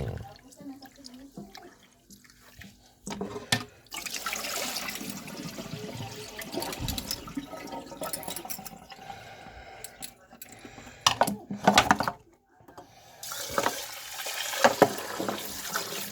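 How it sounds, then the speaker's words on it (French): Food being rinsed in cold running water in a kitchen sink for a cod dish, a steady close splashing stream with bursts and handling clatter, pausing briefly mid-way. "Deuxième rinçage. À l'eau froide."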